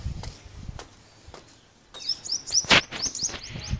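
Two birds chirp on a home terrace, thin high tweets coming in quick clustered bursts, loudest toward the end, with faint scuffing noises in the background.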